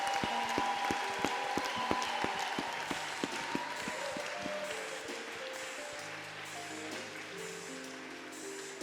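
A church congregation at an all-night worship service claps and applauds in a continuous patter over soft keyboard music, with the clapping fading as the held chords take over.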